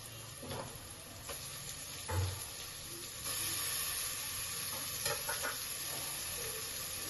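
A tomato frying in a pan for methi matar pulao, a steady low sizzle with a few soft stirring scrapes and clinks, fairly quiet and close, growing slightly louder partway through, with no talking.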